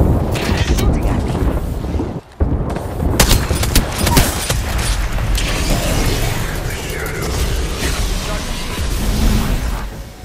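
In the video game Apex Legends, loud, dense bursts of gunfire crackle almost nonstop, with sharp shots and mechanical clatter layered over a busy battle backdrop for about ten seconds.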